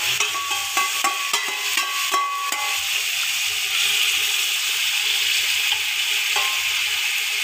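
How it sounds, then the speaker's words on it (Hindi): Marinated chicken with spices fries in a pot for Lahori chicken pulao, giving a steady close sizzle and hiss, with clattering stirring in the first seconds. "इसको अच्छे से हम फ्राई कर लेंगे इन सब चीज़ों को।"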